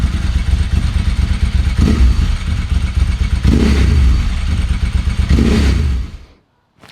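A Ducati Streetfighter V2s motorcycle engine runs loud and close, a steady rumble with three surging revs, then cuts off abruptly near the end.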